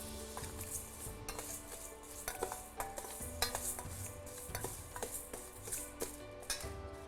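Moong dal dry-roasted without oil in a pan over a low flame, a steady run of gentle scraping and rattling stir strokes, close and soft, with faint clinks of the spoon.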